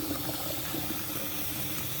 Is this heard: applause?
no